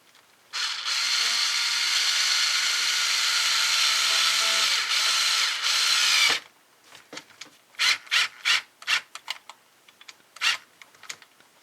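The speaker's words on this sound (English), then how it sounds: "I'm going to screw that into the track bar mount." A long screw is driven into the track bar mount of an RC crawler with a new aluminum Panhard bracket: a steady, close electric driver whir lasting several seconds, followed by a series of short scraping and rattling bursts.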